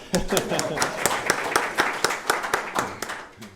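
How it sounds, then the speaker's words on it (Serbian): A small group clapping in brisk, uneven bursts, close by, lasting a few seconds before tapering off. "En aplauz za slovenščino."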